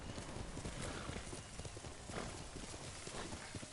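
A horse galloping in the video game Ghost of Tsushima, rapid clip-clop hoofbeats in a rough continuous rhythm under dense game noise, with a faint whinny mixed in.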